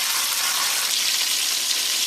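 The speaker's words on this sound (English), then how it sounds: "and continue frying." Spicy chicken pieces fry in a pot of hot oil, giving a steady, dense crackling sizzle that continues without a break and without any voices.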